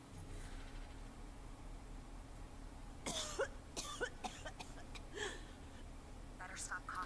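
A character in the Westworld VR game coughing from smoke, a burst of several rough, close coughs in an irregular cluster midway, then another short cough near the end over a low background hum.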